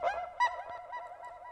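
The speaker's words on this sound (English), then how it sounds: "Some people call it a monkey drum." A monkey drum resampled and pitched up and down yields a weird, haunting, primitive tone, heard alone as a short nasal, honk-like wavering note with a second accent midway, fairly quiet and close.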